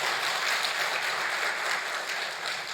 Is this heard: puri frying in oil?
no